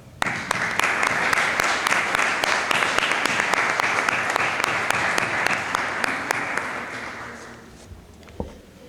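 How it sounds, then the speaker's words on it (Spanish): A conference audience breaks into strong, sustained applause, dense and even for several seconds before thinning out and fading, with a few stray claps at the end. "Recibe este fuerte aplauso."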